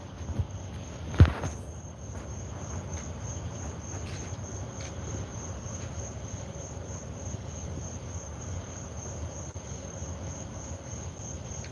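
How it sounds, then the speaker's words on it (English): Crickets chirp steadily through the whole stretch as a thin, continuous high trill, with a brief knock or tap near the start and a soft low rumble of ambient noise underneath, outdoors where a homeless man is camped. "That's the crickets, bro."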